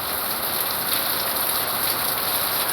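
Heavy rain pours steadily onto a surface, a dense, constant hiss with no break, close and fairly loud, with no voices.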